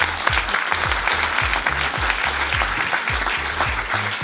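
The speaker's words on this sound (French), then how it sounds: "On va l'applaudir." A comedy show audience claps continuously, layered over a steady, pulsing low thump of background music that keeps a regular beat throughout.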